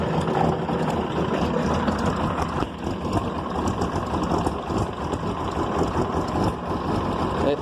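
A 6.2-litre V8 diesel engine idling shortly after a cold start, a loud, rough, continuous clattering rumble heard up close for the whole stretch.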